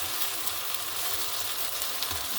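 Food frying in olive oil with salt and coconut oil in a pan, a continuous close crackling sizzle with small pops, steady and fairly loud with no talking.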